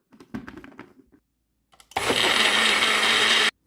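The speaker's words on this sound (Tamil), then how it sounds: "இதை இப்போ அரைச்சிடலாம்." A kitchen blender whirs loudly as it purées avocado, milk and honey into a milkshake, starting abruptly after a moment of brief speech and running at a steady high roar for about a second and a half before cutting off.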